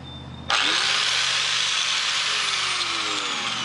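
A small whiz grinder starts abruptly and runs at a steady high whine while beveling the edge of a homemade steel card scraper, loud and close with no talk.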